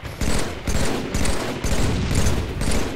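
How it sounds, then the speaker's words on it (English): Heavy sustained automatic gunfire in the video game Halo 3 rolls in loud, continuous bursts aimed at the player, with short breaks between volleys and no talking over it. "I'm getting shot from left"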